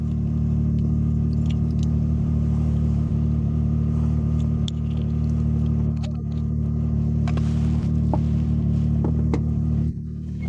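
A six-wheel Krushila off-road vehicle drives through a forest. Its loud, steady, deep engine rumble fills the whole stretch, with scattered knocks and rattles over the top.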